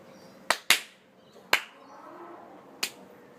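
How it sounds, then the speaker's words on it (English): Four sharp hand claps spaced irregularly, loud and close, with a quiet room murmur underneath and no talking. "we should do the clap thing at the start"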